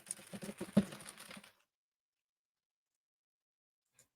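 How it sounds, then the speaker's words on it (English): A computer keyboard is mashed hard and fast in a dense burst of clattering keystrokes lasting about a second and a half, then silence with a single faint click near the end. "Were you just mashing your keyboard?"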